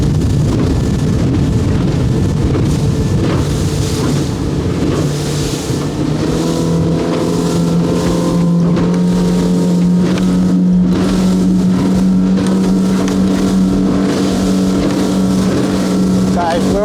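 Highfield Patrol 540 rigid inflatable motorboat with a deep V hull running at sea, its outboard engine droning steadily and rising in pitch as it accelerates, with constant wind and water rush close to the microphone.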